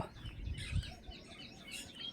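Birds call in the hills on a village morning, with a few light chirps and tweets scattered across a brief stretch of quiet open-air ambience.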